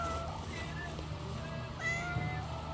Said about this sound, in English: Restaurant cats are the best.